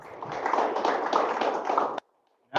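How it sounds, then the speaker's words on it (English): A short burst of applause, many hands clapping steadily for about two seconds before stopping abruptly into silence. "Let's start off by giving Morley a round of applause."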